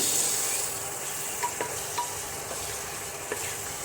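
Potatoes fry in a pan for aloo paneer sabzi, a steady soft sizzle with a few light scrapes and taps of a spoon stirring them, close and alone without talk.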